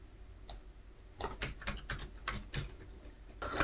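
Computer keyboard keys clack in quick, uneven bursts as Java code is typed, close and crisp in a quiet room, with short pauses between runs of keystrokes.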